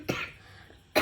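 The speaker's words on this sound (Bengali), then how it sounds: "সরি, কাশি চলে এসছে" A woman coughs twice up close, with a short rough burst at the start and another at the end separated by quiet.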